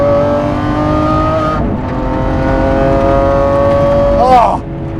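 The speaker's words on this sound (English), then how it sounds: "Oh, this car! I am driving a 2020 Lamborghini" A 2020 Lamborghini SVJ engine roars steadily at high revs, dips briefly, then climbs again, ending in a sharp rising whine as it accelerates close by.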